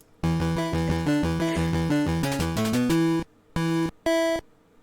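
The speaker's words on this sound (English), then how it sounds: "it was what you just heard was RC Pro-Am, and that was for the Nintendo Entertainment System." Electronic game audio from RC Pro-Am, a racing game on the Nintendo Entertainment System: a run of bright square-wave tones stepping through a quick melody, then two short separate bursts after a gap. No voices are heard.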